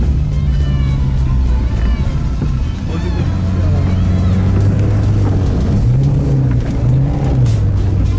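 A Renault Clio engine drones and revs as the car pushes through water on a mountain trail, loud and continuous with splashing wash, the pitch rising and falling near the end.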